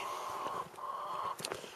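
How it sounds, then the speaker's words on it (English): Chickens cluck and squawk softly at a distance, a couple of drawn-out calls with short clucks between them. "Shut up, chickens."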